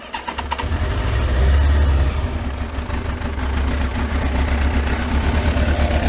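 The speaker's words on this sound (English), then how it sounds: "Right, so I'm low on juice, but I'll get this started." A Kawasaki ZX12R motorcycle, cold after sitting twelve months, cranks and catches straight away, then holds a loud, close, throbbing idle with a steady low rumble throughout.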